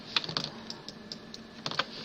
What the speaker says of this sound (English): I'm going to hit E on the keyboard to get this rotation.